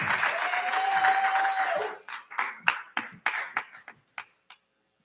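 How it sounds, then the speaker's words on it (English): Conference attendees give a round of applause that starts as a dense burst of many hands, then thins into a handful of separate, sharp claps that die away one by one. "Let's give him a round of applause."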